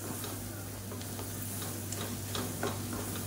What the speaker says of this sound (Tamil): சேர்த்துட்டு நல்லா எண்ணெயில் பரட்டி விட்டுக்கலாம்.